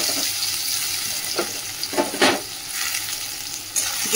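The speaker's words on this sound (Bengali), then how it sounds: "আগে নারকেলটা ভেজে নিই, তারপরে ফোড়ন দেবো।" Grated coconut mixed with turmeric fries in hot oil, giving a continuous hissing sizzle with a few louder crackles and stirring sounds, close up, with no talk.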